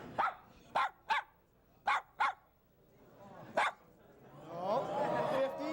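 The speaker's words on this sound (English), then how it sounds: "This dog knows how to count, add, subtract, divide, and multiply." A performing dog gives a run of sharp barks, two quick pairs and then single barks, while someone talks over the end as an audience looks on.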